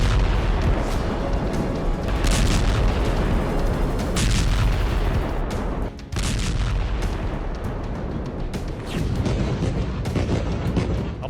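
Continuous rumbling explosions and heavy blasts in Gaza rolling over one another, loud and dense throughout with no voices.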